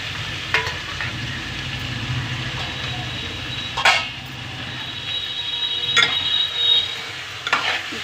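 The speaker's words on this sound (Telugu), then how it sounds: "ఇప్పుడు చికెన్ ముక్కలు వేసేస్తున్నాను అర కేజీ చికెన్ అండి ఇది వేస్తున్నాను" Half a kilo of washed chicken pieces drops into a hot pan for chicken curry, sizzling and frying steadily while being stirred, with a few sharper scraping clatters standing out above the continuous crackle.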